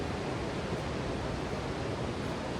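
Small waterfalls at Plitvice Lakes in Croatia pour in a steady, dense rush of broadband water noise, close and unbroken throughout, with no voices.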